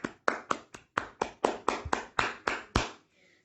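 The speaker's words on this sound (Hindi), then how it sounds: "वाह, जोरदार तालियां।" Around eleven loud, sharp, evenly spaced claps ring out at a Hindi Diwas celebration, each a crisp slap with a short decay, in a steady rhythm that stops abruptly, followed by a faint tail.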